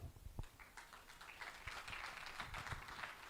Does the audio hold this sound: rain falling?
no